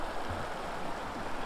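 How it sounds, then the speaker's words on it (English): A babbling creek flows in a steady, soft, even wash of running water with no voices over it. "And these babbling creeks, rivers."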